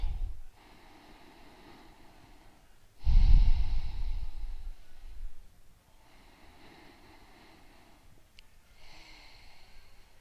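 Deep breaths taken during a shoulder stretch, a loud close inhale-exhale in the middle with quieter airy breathing before and after, separated by near-silent pauses.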